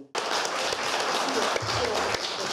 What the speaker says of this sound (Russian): Сегодня на ваши замечательные стихи вся Россия вам хлопает.